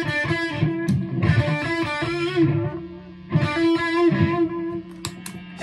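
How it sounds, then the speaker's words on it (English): Crunchy distorted Epiphone Les Paul Traditional Pro III Plus electric guitar strums chords in two bursts, loud and close, with a brief gap between them; no voices. "Let's hear it with my distortion, my crunch"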